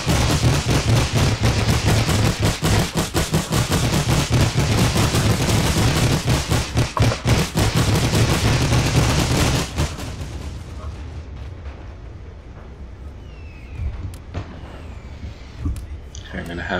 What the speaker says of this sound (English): the machine guns are opening up